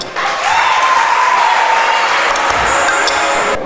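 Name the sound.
audience applause welcoming the first speaker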